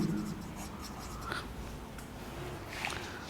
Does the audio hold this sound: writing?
yes